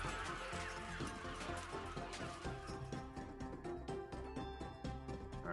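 Chicken clucking from the strategy game Mushroom Wars 2 during a competitive 1v1 tournament match, sounding as a continuous fowl chatter layered over dense, loud game music and effects throughout.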